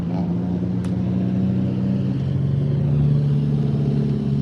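A drift car passes at Ebisu Circuit in Japan during practice and qualifying at the Autumn Drift Matsuri, its engine a steady mid-pitched drone that swells slightly and shifts tone as it goes by at a moderate distance.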